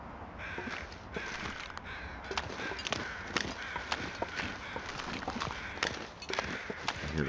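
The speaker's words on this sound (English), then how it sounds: "I hear the birds getting a little louder." Crows caw repeatedly in the wilderness of the survival game The Long Dark, several calls standing out against a steady windy, noisy ambience, fairly close and alone without talk.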